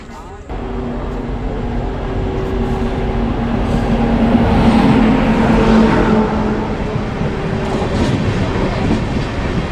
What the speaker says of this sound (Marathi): ट्रेन आली आहे मित्रांनो